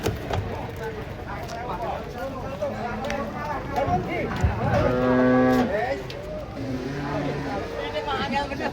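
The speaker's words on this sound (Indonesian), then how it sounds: "Sapi ini yang lucu ini." A cow moos loudly nearby after coming off a truck, a long drawn-out low call, with people chatting and other farm noises around it.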